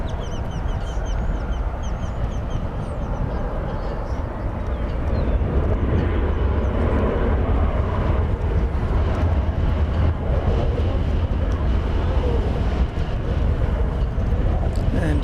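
A jet airliner takes off from runway 36 at DFW Airport as a steady, broad, low rumbling roar that fills the whole stretch, heard from some distance outdoors, with faint background voice chatter.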